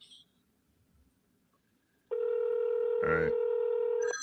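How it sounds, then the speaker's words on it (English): A telephone on a Google Voice call rings with a single loud, steady electronic tone that begins midway after near silence. A voice speaks briefly over the ring. "I hear the phone ringing."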